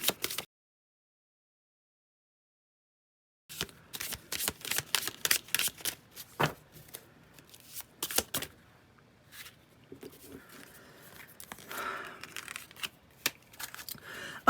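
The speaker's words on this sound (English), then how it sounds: "Just the finish on the cards makes it very easy to shuffle." Tarot cards are shuffled in several quick riffling bursts and soft shuffles after a quiet start, close and fairly faint.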